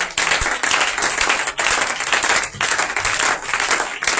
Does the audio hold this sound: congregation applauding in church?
yes